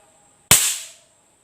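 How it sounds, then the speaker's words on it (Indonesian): Shorting the cable of a pig stun device gives one sharp electrical pop, loud and close, with a short crackling decay against a quiet background hum. "Kalau sudah meledak, berarti arusnya sudah hilang."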